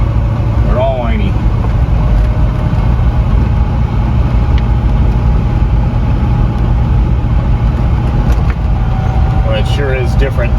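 A 1971 Buick GS Stage1 convertible with a four-speed manual, whining in first and second gears, a steady engine drone with a thin tonal whine running underneath, close and continuous, with brief speech over it.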